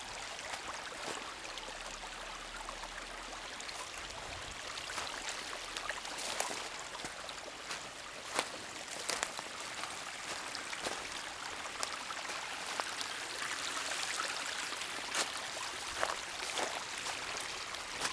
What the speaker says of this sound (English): the water just keeps coming, keeps flowing down the hill